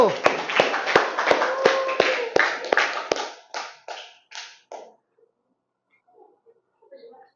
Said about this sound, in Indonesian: Ya, tepuk tangan untuk kelompok 1.